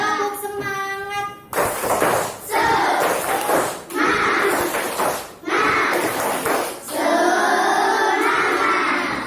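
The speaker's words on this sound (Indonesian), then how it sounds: "Coba tepuk semangat." A fourth-grade class of children performs a spirit clap chant in a classroom: loud group shouts and rhythmic clapping come in repeated bursts after a brief sung opening.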